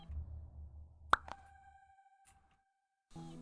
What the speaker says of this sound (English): we could add like a sound so players know that you've picked it up